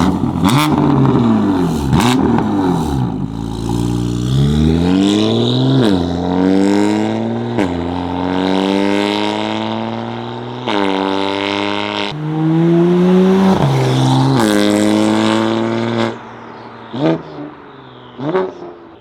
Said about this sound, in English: This is before the Valvetronic exhaust.